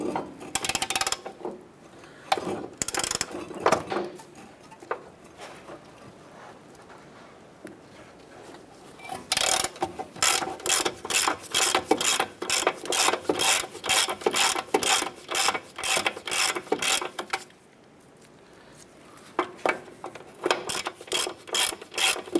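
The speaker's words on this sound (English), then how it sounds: "Using a 17mm socket, I want to go ahead and remove our upper nut here." A 17mm socket ratchet works the upper nut on a 2008-2012 Honda Accord wheel bearing job, with rapid bursts of clicking pawl strokes repeating close up and short pauses between sets.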